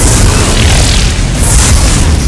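Explosion effect for a destroyed resonator in the mobile game Ingress Prime: a loud, sustained booming rumble with a crackling burst that fills the whole moment without any talking.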